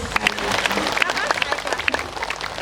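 An audience at a humorous Islamic religious gathering in Indonesia claps and applauds steadily for a few seconds, a dense patter of many hands with a few voices mixed in.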